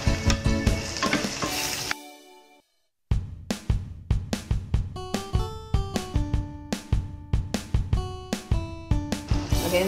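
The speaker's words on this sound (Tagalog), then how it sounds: "Lagay na natin yung garlic." Garlic sizzles and fries in bacon fat in a pan with stirring, a steady sizzle broken by a brief quiet gap and then repeated sharp stirring knocks.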